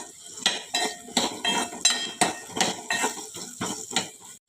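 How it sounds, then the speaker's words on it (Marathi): A metal spatula scrapes and clinks rhythmically in a pan as mixed vegetables with potato are stir-fried, a steady series of close, sharp strokes roughly twice per second. "खरपूस होईपर्यंत आपण ते तळून घेऊयात."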